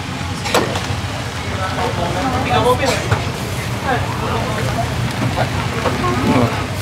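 Heavy rain pours steadily outdoors, a constant dense wash of sound running through the whole stretch beneath people chatting and laughing close by.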